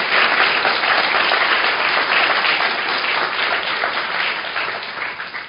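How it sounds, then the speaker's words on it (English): Applause at a patient conference fills the room, a loud, dense, continuous roar of many hands clapping that holds steady and then begins to fade toward the end, with no talking. "I think we should give him a round of applause for"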